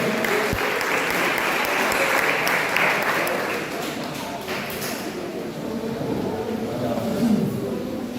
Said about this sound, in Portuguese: Quantos podem aplaudir o Senhor Jesus nessa noite